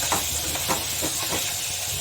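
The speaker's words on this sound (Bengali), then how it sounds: "আর মাংসটা দিলাম, মটনটা এবার একটু কষে নেব।" Mutton fries in a pan ahead of the potatoes for a mutton jhol, giving a loud, steady sizzling hiss with soft bubbling pops, and no voices.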